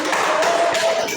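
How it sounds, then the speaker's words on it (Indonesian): A school class claps briefly after a group finishes presenting its discussion. The clapping is quick and fairly loud, with a voice faintly mixed in. "Ya baik, tepuk tangan dulu."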